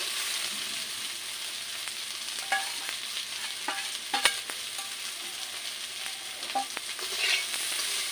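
Steady frying sizzle as a spatula scrapes and stirs fried fish with green tomatoes in a pan, scattered clinks and scrapes over the constant hiss.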